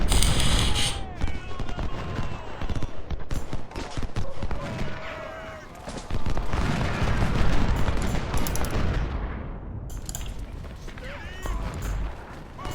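Hunter rifles and skirmishers crackle through a dense, continuous stream of overlapping shots in the Ultimate General: Civil War video game, the battle noise loud and unbroken throughout.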